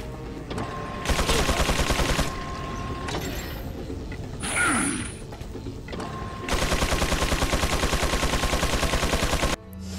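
Rapid automatic gunfire in the Resident Evil 4 boss fight against Salazar, two long sustained bursts of fast repeated shots, loud and close, separated by mechanical creaks and a whooshing effect.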